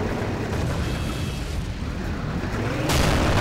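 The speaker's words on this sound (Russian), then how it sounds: "очень классная перестрелка на танках, мне нравится" Tank cannon fire and heavy explosions in the sandbox game Garry's Mod, with a dense, continuous rumbling roar of blasts and a sharper burst near the end.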